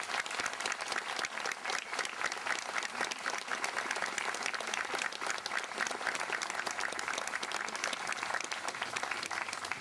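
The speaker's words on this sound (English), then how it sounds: "So please give him a round of applause." A crowd at an outdoor Memorial Day ceremony breaks into sustained applause, dense clapping that stays steady and fairly loud for several seconds with no speech over it.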